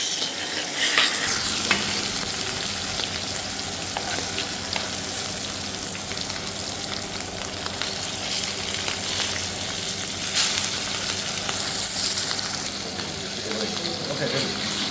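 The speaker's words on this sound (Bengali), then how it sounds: "বোথ সাইড ভালো মতো ফ্রাই করতে হবে" Hilsa fish frying in hot oil on medium heat, turned to crisp both sides: a loud, dense sizzle with bubbling crackle that holds steady throughout, punctuated by occasional stirring clatter.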